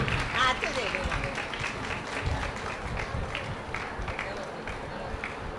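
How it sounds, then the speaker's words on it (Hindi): A gathering at a Hariyali Teej festival claps in welcome, a soft and somewhat distant patter of hands running steadily with murmuring voices underneath. "तालियों से तो स्वागत कर सकते हैं ना।"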